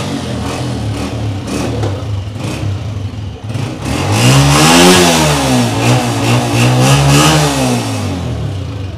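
A 2022 Honda 125 motorcycle engine, a used bike shown for sale, idles unevenly at first, then revs up loudly around the middle with rising and falling throttle blips before settling back to a steady running note, close by with no talk.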